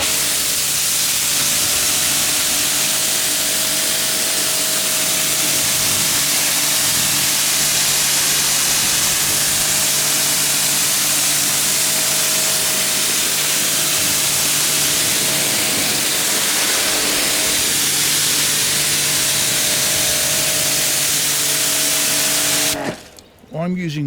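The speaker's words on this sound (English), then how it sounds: "the other hand to spray the car" Ethos Resist coating top-up sprayed onto a car, a steady, close, continuous hiss lasting over twenty seconds before cutting off abruptly.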